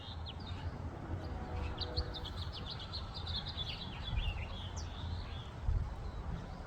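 Several birds chirp and twitter at a distance over a steady low outdoor rumble, the calls scattered and overlapping throughout.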